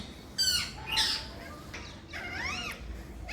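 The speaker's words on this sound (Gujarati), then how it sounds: "સરસ મજાનો અવાજ આવી રહ્યો છે કાબર પણ આવી ગઈ છે" A myna bird calling close by, a few harsh squawks and rising whistled notes in short bursts over quiet outdoor background.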